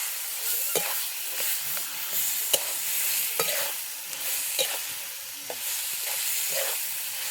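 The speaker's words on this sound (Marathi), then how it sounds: "चांगला साखरेच्या मसाल्यामध्ये मिक्स करून घ्यायचं वांगी." Mashed eggplant is stirred into a spice mix in a hot pan, with a soft sizzle under it and repeated scraping strokes and light clinks of the spoon at an uneven rhythm.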